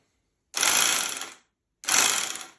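An electric 220V sack-closing sewing machine runs in two short mechanical bursts, a harsh buzzing rattle each lasting about a second, separated by silence.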